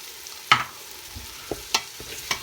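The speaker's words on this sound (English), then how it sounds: "You stir it together with the egusi." Egusi soup with tomatoes frying in a pot, stirred with a spoon, giving a few faint sharp scrapes and clinks over a quiet background of low sizzling.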